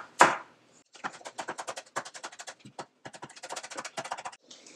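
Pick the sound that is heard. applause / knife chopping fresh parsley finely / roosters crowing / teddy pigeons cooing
knife chopping fresh parsley finely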